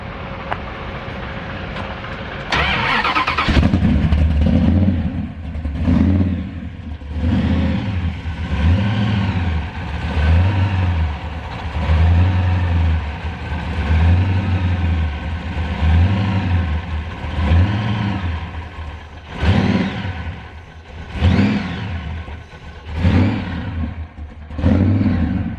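A supercharged 1971 Dodge Charger drag, street and show car kicks to life, then its engine runs loud and close in a rough lope, blipped again and again into repeated rising revs.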